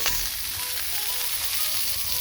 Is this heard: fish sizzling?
yes